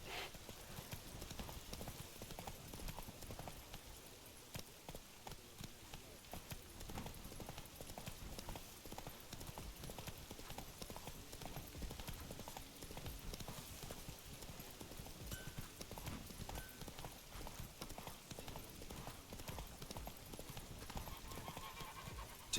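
A horse gallops steadily in the video game The Witcher, its hoofbeats a continuous rapid clip-clop under faint ambient game sound, with no talking.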